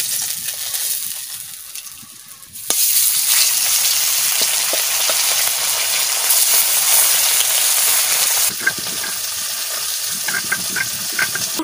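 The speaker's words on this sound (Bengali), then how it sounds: "মাছ ভাজা উঠাই নিচ্ছি" Tilapia fish frying in hot oil after being rubbed with turmeric and salt, a steady loud sizzle and hiss that swells sharply a few seconds in, then eases slightly near the end with scattered crackles and pops.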